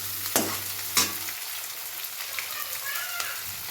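Green chillies frying in a pan, a steady fine sizzle like light rain with a couple of sharp scrapes from stirring near the start, close and with no talk.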